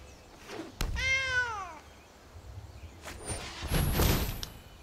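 A cat meows once in a sliding, mid-length call, a game sound effect from a cat card in MTG Arena, followed by soft swishes and light taps of the game interface.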